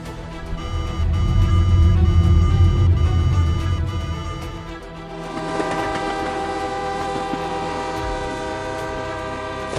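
Cartoon sky metro trains come under attack: a heavy rolling rumble swells and fades, then a sustained, harmonic horn-like blare carries loudly through the rest.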